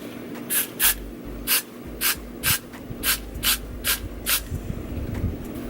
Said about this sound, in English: we're gonna go back and spray some more Freeze Splash